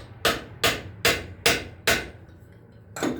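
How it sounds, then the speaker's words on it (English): A part on a 2008 Pontiac G6 GT is tapped into place with a hammer, giving five sharp, evenly spaced metallic knocks, then a pause and a sixth strike, close and loud with no talking. "So I got to tap it to the other side now."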